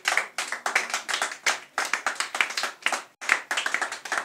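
A church congregation claps together to acclaim Jesus Christ, bursts of loud close hand claps in short irregular runs with brief pauses between them and no talking.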